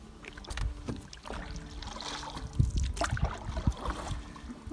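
A canoe is paddled downstream on a small river during a solo trip. Soft, irregular splashes and dripping water come from the paddle close by, over faint water movement.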